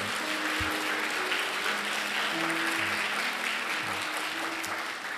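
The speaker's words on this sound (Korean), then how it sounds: "박수로 환영하며 축복해 주시기 바랍니다" A church congregation applauds steadily to welcome a new worship leader during a service, a dense, even wash of clapping that fills the whole stretch and eases slightly at the very end.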